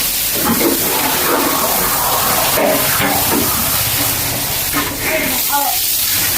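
Steady hissing spray of water runs continuously, close and loud, as a cow is washed, with voices talking faintly underneath.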